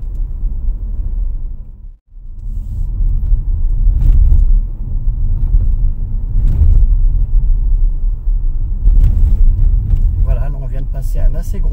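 Deep low rumble of a Renault Arkana hybrid rolling over an uneven road in poor condition, with occasional thumps and bumps, while a person talks over the noise.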